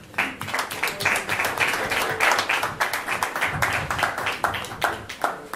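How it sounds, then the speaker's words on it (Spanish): Applause and clapping from an audience at the launch of a new poetry book, filling the room steadily for several seconds, with dense overlapping claps that swell and thin slightly toward the end. "muchas gracias por esos aplausos"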